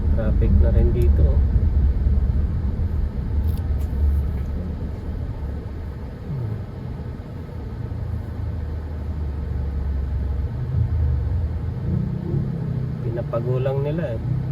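Car driving through congested city traffic on the way to Alabang, Muntinlupa, with a steady low engine and road rumble throughout and people talking inside the car.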